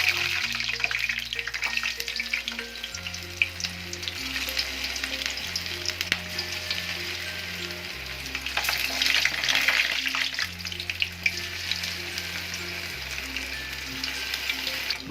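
Beef tikka boti pieces deep-fry in hot oil, giving a steady bubbling sizzle throughout with occasional clinks and stirring noises, while background music plays beneath.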